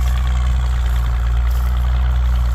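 A tractor engine idles low and steady, a loud, close, even diesel-like rumble with a constant deep throb and no change in pace across the short stretch.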